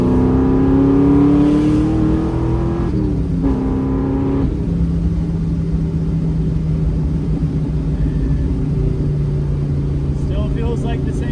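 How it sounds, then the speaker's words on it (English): A Mustang engine drones loudly and steadily, its pitch rising then settling into a low cruising hum, with brief faint talk near the end. "Sounds great. I don't think this car has ever sounded bad."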